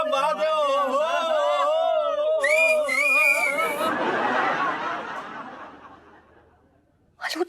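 Several people whistle in wavering, warbling tones out in a street, then a burst of laughter and crowd noise follows before fading, with a brief sharp sound at the end.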